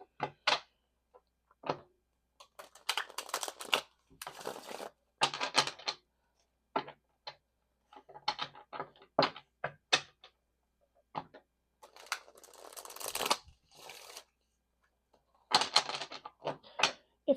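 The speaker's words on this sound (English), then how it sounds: "we're going to start to shuffle the Rider-Waite deck." Rider-Waite tarot card deck being shuffled by hand, with repeated bursts of riffling and card snaps separated by short pauses, close and fairly quiet, with no talking.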